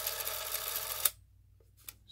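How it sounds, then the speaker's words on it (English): Shutter of a Cine-Kodak Magazine 16A 16mm movie camera, running with the lens removed, gives a steady close mechanical whir that cuts off abruptly, followed by a faint brief click. "you can see the shutter work."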